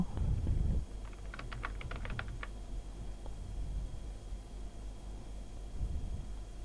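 Fingers type an institute name on a computer keyboard in a quick burst of soft, close key clicks, then a few scattered taps, against a quiet room hiss.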